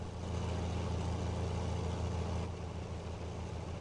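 A tractor engine in the Farming Simulator 19 video game drones continuously at high revs, a loud steady low rumble with a constant tonal hum and no break.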